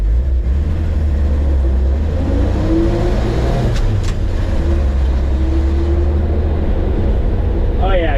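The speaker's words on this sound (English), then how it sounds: "we're in the 51 Chevy, and we're going to take it for a quick test drive here" A 1951 Chevy truck's engine drones steadily from inside the cab on a test drive, a loud low rumble that holds throughout with slight pitch changes as it pulls along the road.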